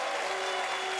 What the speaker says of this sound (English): Give Damien a big round of applause.